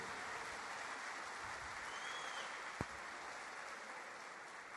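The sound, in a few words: church congregation applauding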